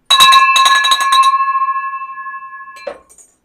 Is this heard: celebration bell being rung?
yes